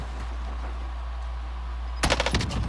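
Gunfire in the video game Warzone: after steady low background hum, a sudden rapid burst of loud automatic shots crackles near and sharp, followed by a few more rattling rounds.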